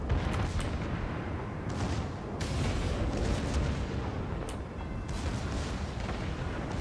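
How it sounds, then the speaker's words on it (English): Secondary guns on a warship in World of Warships firing at the enemy cruiser St. Louis, a steady rumble of repeated booms and bursts with several sharper cracks, loud and continuous for the whole stretch. "I will unleash my signal armaments on the St. Louis"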